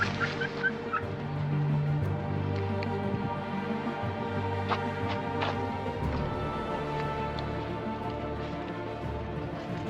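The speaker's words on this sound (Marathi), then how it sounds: "ही टर्की आहे." Male and female turkeys on a village poultry farm gobble in a few short warbling bursts early on, moderately close over a low farmyard background.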